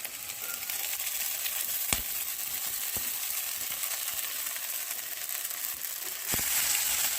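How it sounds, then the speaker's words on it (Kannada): Sago pearls (sabbakki) with onion and greens roasting in a pan for sabbakki uppittu, a steady close sizzle with occasional scraping stirs and sharp clicks of a spatula against the pan. "ಈಗ ಸಬ್ಬಕ್ಕಿ ಟ್ರಾನ್ಸ್ಪರೆಂಟ್ ಆಗೋ ತನಕ ಹುರ್ಕೋಬೇಕು."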